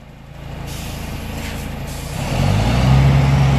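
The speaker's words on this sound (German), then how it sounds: "Ein bisschen weiter vor und dann hart bremsen" A truck with a tandem trailer rolls forward and then brakes hard on its air brakes, the engine rumble swelling into a loud low grinding growl near the end, close by and without speech.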